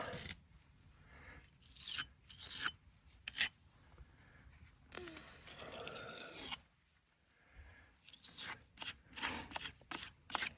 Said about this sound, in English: What I want to do is scrape it as flat as possible.